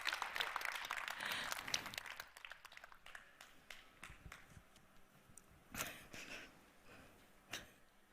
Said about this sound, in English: You don't need to clap that.